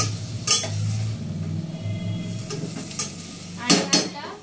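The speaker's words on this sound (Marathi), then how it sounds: "भाज्या 1-2 मिनिट आपण परतून घ्यायच्या." Mixed vegetables sautéed with grated coconut, coriander, green chilli and ginger for a quick khichdi: a low, steady sizzle under sharp metallic spoon scrapes against the pan, clustered near the start and end.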